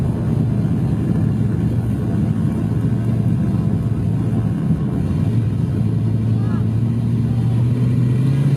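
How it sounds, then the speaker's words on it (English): An off-road race truck launches off the start line of a main event on a dry lake bed, its engine a loud, close, continuous rumble that swells and rises in pitch as it accelerates. "Team Nitto would be off the line first in the main event, with Eric Miller"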